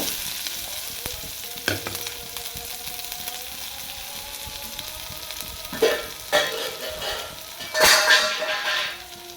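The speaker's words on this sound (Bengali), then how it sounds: "তেল গরম হয়ে গেছে প্যানে। এবার আমি পেঁয়াজ কুচিটা এর মধ্যে আমি দিয়ে দেব।" Chopped onion frying in hot oil in a pan, a steady low sizzle broken by several sharp clinks and scrapes of a spoon stirring against the pan, fairly close with no talking.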